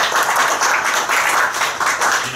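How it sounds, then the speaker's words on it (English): An audience applauds a speaker introduced at a talk on AI fairness in government, a steady, dense wash of clapping that holds evenly throughout. "Please give him a warm round of applause."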